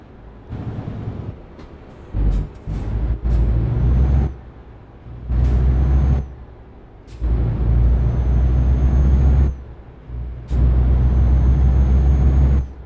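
Heavy truck engine in Euro Truck Simulator 2 with a 12-speed gearbox, revving in repeated loud bursts that drop away between frequent gear changes, with air-brake hisses.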